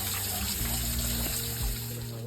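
Green coolant from a truck's heater core drains in a steady trickle and splash, continuous and fairly close throughout.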